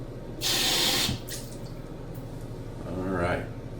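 A bathroom tap runs as a face is wetted before a wet shave, with a short close splash of water, a quieter stretch of trickling and a second gentle splash.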